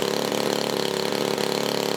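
A Hangar 9 20cc P-47 model airplane's gas engine idles steadily, a continuous buzzing putter with an even rapid pulse, fairly close and alone.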